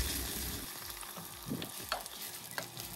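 Chopped onions and grated garlic fry in oil after mustard seeds, fenugreek and dry red chilies, a soft, fairly quiet hiss with a few clinks and scrapes of stirring.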